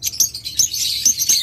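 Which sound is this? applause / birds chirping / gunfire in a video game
birds chirping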